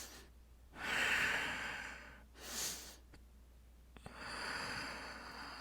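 Slow, deep breaths during a yoga stretch, close and fairly soft: a long inhale, a shorter breath, then another sustained exhale, with no speech.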